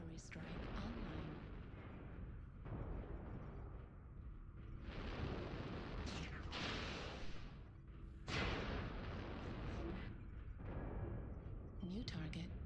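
Artillery strike explosions in a video game, a continuous rumbling barrage of booms and blasts with recurring louder surges, no talking.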